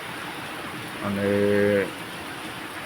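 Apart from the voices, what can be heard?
heavy rain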